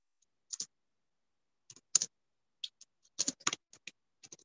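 Someone types on an AZERTY computer keyboard, sharp key clicks arriving in short irregular bursts against silence, close and alone.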